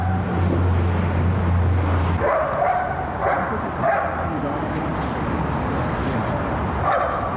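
An LAPD police K-9 dog gives several sharp barks and yips in an outdoor search, the barking close and loud over steady background rumble, with a voice talking during part of it.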